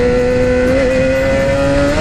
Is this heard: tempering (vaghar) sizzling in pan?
no